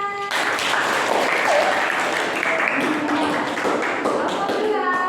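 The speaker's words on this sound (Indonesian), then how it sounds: "Oke, tepuk tangan" A classroom of students applauds together at the teacher's prompt, a dense, steady burst of clapping with mixed voices and chatter running under it throughout.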